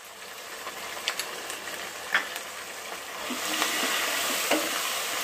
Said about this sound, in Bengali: এখন এই মশলাটাকে খুব সুন্দর করে একটু কষিয়ে নিব।